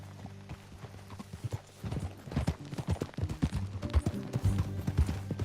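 Horses trotting in the video game Red Dead Redemption 2, hooves clip-clopping in a steady, quickening rhythm close by over a low sustained tone, growing louder and busier toward the end.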